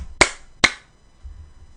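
Two sharp, separate hand claps close by, about half a second apart, each ringing briefly before fading, followed by low background rumble.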